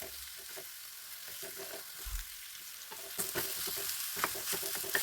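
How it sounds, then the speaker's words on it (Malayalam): Chopped ripe nendran banana (plantain) being stirred and fried in ghee, a soft close sizzle with scraping stir strokes that grows a bit louder and busier in the second half. "അതിലേക്ക് ഈ അരിഞ്ഞു വെച്ച പഴം ഇട്ട് ഒന്ന് നെയ്യിലൊന്ന് വരട്ടിയെടുക്കും"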